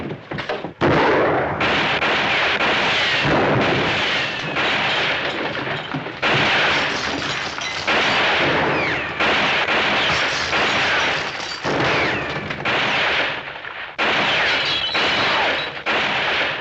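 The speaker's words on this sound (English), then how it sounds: "Hey, somebody's shooting at somebody." Heavy gunfire with people shooting in bursts, loud close shots and blasts repeating across the scene with brief gaps between volleys, no talk.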